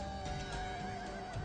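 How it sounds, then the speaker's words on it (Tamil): Magic horses neigh in a mythological drama scene, a continuous whinnying cry sitting over a dense musical and ambient bed throughout the short moment. "இவை புவியில் பிறந்த சாதாரண குதிரைகள் அல்ல."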